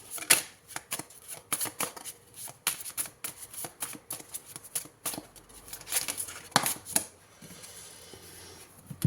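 Tarot cards are shuffled close up, producing quick, crisp riffles and papery slaps in uneven bursts that come one after another, with brief pauses between them.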